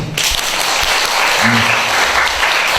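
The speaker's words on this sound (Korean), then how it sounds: "부처님께 감사의 박수를 한번 드릴까요" Temple audience at a Buddhist dharma talk giving thanks with applause, thick continuous clapping from many hands, with a brief low murmur partway through.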